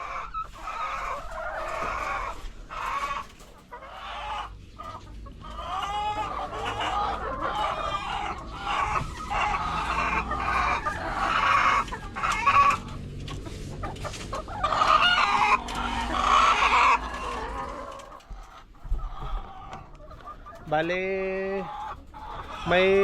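Several chickens cluck and squawk close by in a busy, irregular chorus, with a rooster crowing near the end.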